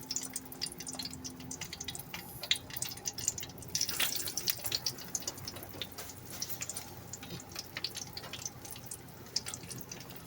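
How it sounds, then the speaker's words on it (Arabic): Pieces of liver go into hot oil in a small pan, giving a fairly quiet, continuous crackle and sizzle with scattered sharp pops throughout. "الزيت خلاص ايه قدح معايا اهو، هننزل بقى بالكبده بسم الله."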